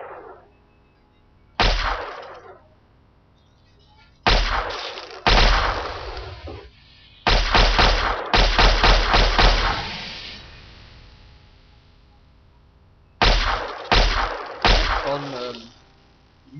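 Laser pistol fire in Fallout 3, sharp bursts in short separated groups with near-silent gaps, several rapid shots clustered together, loud and close.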